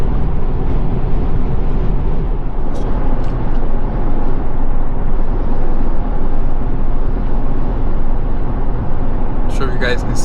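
Wind roars around the cabin of a 2025 GMC Canyon 2.7L pickup cruising on the road, a steady broad rush blended with road and engine noise, with a person talking throughout.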